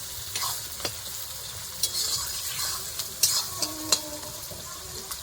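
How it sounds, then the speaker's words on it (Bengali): Whole garlic fries in oil in a pan, a steady close sizzle with occasional stirring scrapes and clicks over it. "এগুলো একটু ভেজে নেবো লাল লাল করে"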